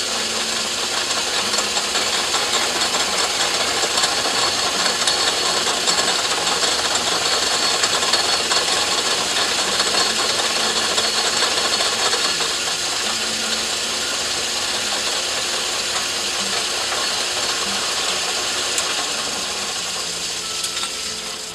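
A metal lathe running slowly in back gear while a 3/16 reamer works through a small engine bearing part, a dense steady mechanical whir and grind holding constant for the whole stretch with no talk.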